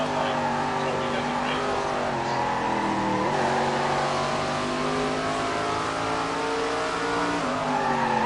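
Race cars in a PS4 racing game rev and roar at the start of a race, a steady loud engine drone with rising and falling pitch and a few tire squeals, an announcer's voice talking over it throughout.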